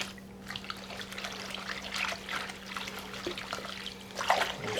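Water, about three and a half cups, trickling steadily into a smoked pork marinade in a bowl, a close continuous pour with small splashes and a low steady hum beneath.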